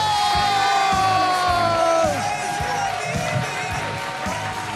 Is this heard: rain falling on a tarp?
no